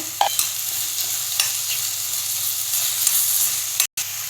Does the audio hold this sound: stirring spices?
yes